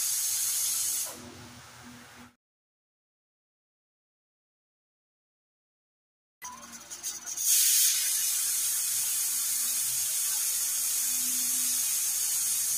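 Loud, steady hissing of steam from a pressure cooker whistling on an induction cooktop over medium heat, cutting out for a few seconds of silence before the forceful hiss resumes.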